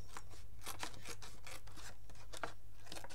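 Scissors snipping through a recycled aluminium sheet in a steady series of close, crisp cuts with faint metallic rasping between them.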